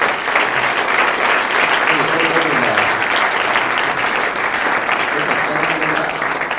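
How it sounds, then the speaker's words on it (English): Sustained audience applause fills a conference hall at a digital festival, dense and steady throughout, with a few voices faintly audible beneath the clapping. "Ladies and gentlemen, a big round of applause."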